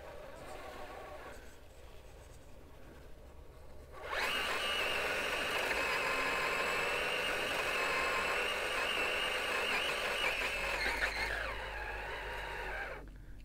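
Vanquish VS4-10 Toyota RC rock crawler on a sandstone trail, its electric motor whining loudly and steadily as it bumps hard over rocks, with a quieter stretch of background noise beforehand.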